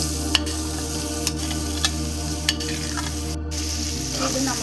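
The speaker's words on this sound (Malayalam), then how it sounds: "നമുക്ക് ഈ അരിഞ്ഞു വെച്ച സവാളയും പച്ചമുളകും കൂടെ ഇതിലേക്ക് ചേർത്ത് കൊടുക്കാം" Chopped onion and green chilli sauté in hot oil, a steady close sizzle broken by several sharp spoon taps against the pan and a short scraping stir.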